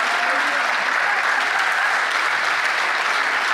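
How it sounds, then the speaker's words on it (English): Sustained, dense applause from a seated audience fills the whole moment, an even, close crackle of many hands clapping with no break and no voices above it. "I didn't expect such a long applause"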